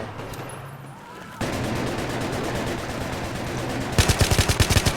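Battlefield 3 gunfire sounds in sharp, loud bursts: a quiet stretch gives way to sustained rattling fire, and then a rapid string of distinct close shots closes it.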